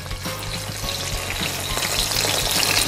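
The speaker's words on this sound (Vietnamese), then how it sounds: "các món ăn của chúng ta khi mà chiên cùng một lúc ở trong chiếc nồi này nó sẽ không lẫn" Food sizzles and spits hard in hot oil inside a stainless steel Queen Cookware pot, with several dishes frying at once, a loud, crackling, continuous fry close up with scattered pops and no talking.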